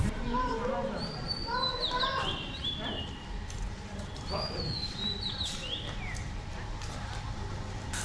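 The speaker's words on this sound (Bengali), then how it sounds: "কানে ভেসে এলো মনোমুগ্ধকর পাখির কিচিরিমিচির শব্দ" Birds chirp and trill around the grounds of a replica Taj Mahal monument, bright repeated calls rising and falling over a busy outdoor background, with a voice talking underneath.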